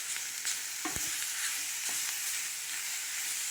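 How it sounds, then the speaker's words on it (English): Paprika pork is stirred in a frying pan, giving a steady broadband sizzle with a few scraping utensil strokes near the middle, close and continuous, with no talking. "Give it a stir"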